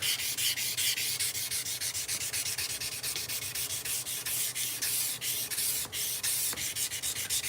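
Steady, close sanding with 400 grit sandpaper at a forge, a continuous hiss of rapid back-and-forth strokes with no talking.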